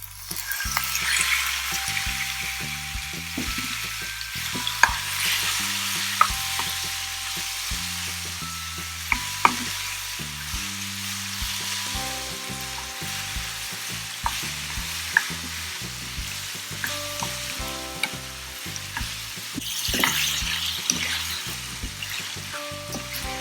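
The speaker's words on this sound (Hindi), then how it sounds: "ऑयल अच्छे से गर्म हो जाने के बाद मैं इसमें मैरिनेट की हुई चिकन को ऐड करूंगी।" Steady crackling sizzle of marinated chicken frying in hot oil, with occasional sharp pops and clinks of stirring, continuous and close.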